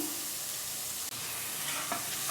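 Tomatoes, spring onion, carrot and green peas stir-fry on high heat for vermicelli upma, a loud, close, continuous sizzle with a brief stirring scrape.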